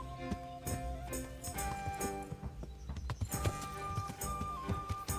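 Horse hooves clopping in a steady rhythm while riding in the medieval video game Kingdom Come: Deliverance, mixed with layered game music and ambient tones at moderate level.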